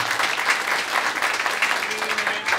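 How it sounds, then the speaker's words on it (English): Sustained applause from a live audience at a talk, dense steady clapping filling the whole moment at moderate loudness, with a faint murmur of voices underneath. "Round of applause."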